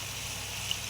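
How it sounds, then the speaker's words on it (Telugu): Water is poured into a cooking pan of chicken keema with palak and methi greens and coriander powder, a faint, steady pouring hiss that lasts the whole second with no other sounds. "కొంచెం వాటర్ వేసుకుందామండి"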